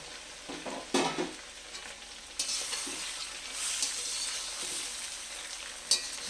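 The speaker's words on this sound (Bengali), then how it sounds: "গ্যাসটা কমিয়ে মটরশুঁটিটা নাড়তে হবে।" Green peas frying in a pan over low gas for vegetarian fried rice, stirred with a spatula in repeated scraping strokes over a soft continuous sizzle, with an occasional sharper clink of utensil on pan.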